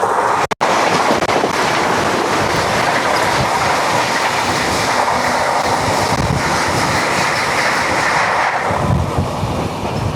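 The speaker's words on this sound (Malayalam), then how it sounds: "അതേ വന്ദേ ഭാരത് വരുന്നു." A Vande Bharat express train rushes past close by, a loud sustained rumble with rhythmic clickety-clack of wheels on rails and a sharp click near the start.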